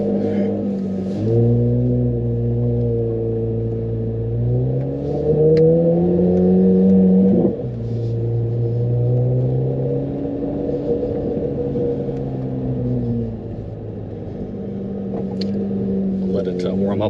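A Chevrolet Corvette engine idles while warming up on a cool day and rises in pitch through a few gentle, sustained revs before settling back, heard close with voices speaking intermittently over it.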